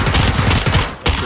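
Rapid automatic gunfire in the video game PUBG Battlegrounds, a loud, close burst of about a dozen shots in quick succession, briefly pausing before another shot.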